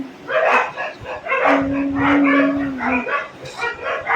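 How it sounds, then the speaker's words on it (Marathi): Several dogs barking on the floor below, a string of loud yips and barks in quick bursts, fairly close, with a whining tone partway through. "कुत्रे बघा एवढे भुकताय ना खाली"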